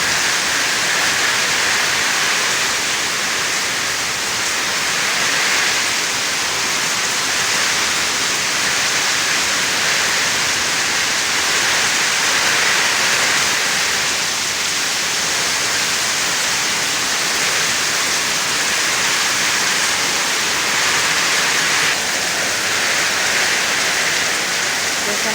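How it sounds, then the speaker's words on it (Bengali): Heavy rain pours at a village home as a dense, unbroken hiss of drops on surfaces, loud and constant from start to finish. "প্রচন্ড বৃষ্টি হচ্ছে"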